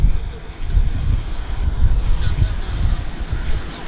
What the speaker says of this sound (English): Porter Airlines is taxiing.